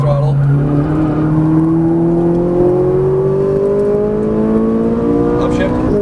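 A Ferrari 458 Italia on a racetrack accelerates under throttle, its engine note climbing steadily in pitch as it revs up from inside the cabin, loud and continuous, with a voice talking over it.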